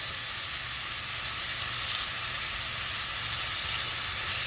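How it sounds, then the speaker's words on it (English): Beef sears in a pan for beef fried rice, a loud, even, close hiss of frying oil that holds steady throughout without pause or voices. "get a nice little brown sear on here"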